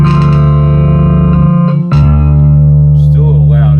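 A repaired 1980 DOD 670 flanger pedal drives an amp slightly into overdrive, giving a loud, sustained buzzy guitar tone with a short break near the middle, as a voice talks briefly near the end.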